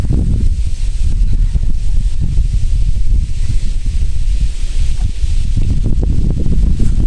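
Strong wind buffeting a microphone outdoors, a continuous low roaring rush with gusty fluctuations throughout and no voices.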